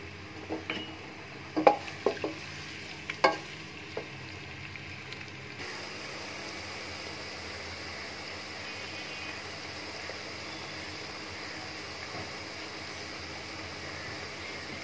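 Chopped onions frying in hot oil for Bangladeshi morog polao: a few clanks of a utensil against the pan, then a steady, even sizzling hiss that carries on close by, with no voices.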